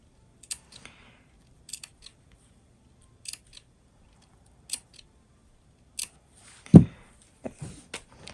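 Scissors snip fabric beside a zipper while making a cosmetic pencil pouch: a series of short, crisp, close-up clicks spaced irregularly, one louder cut partway through, all in near silence.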